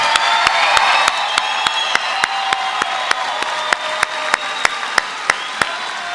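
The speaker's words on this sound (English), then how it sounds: "How about one great round of applause" A round of applause from a crowd at a high school graduation, with steady dense clapping and light cheering, punctuated by a regular series of sharp, loud individual claps close by throughout.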